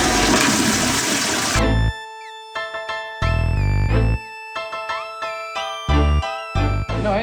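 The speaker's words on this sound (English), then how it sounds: "this is the new power flusher" A new power-flusher toilet lets out a loud, sharp whoosh, followed by a string of short, tonal electronic-sounding bursts with gaps of silence between them.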